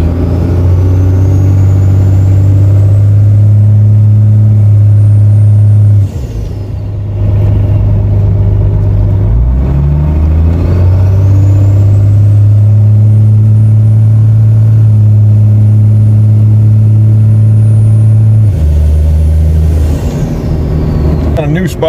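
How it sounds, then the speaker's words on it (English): Car engine revving under throttle while driving, with a transmission line pressure gauge newly fitted, the steady loud drone climbing and falling between shifts before pulling hard again, close and continuous. "So we're gonna go for a little drive."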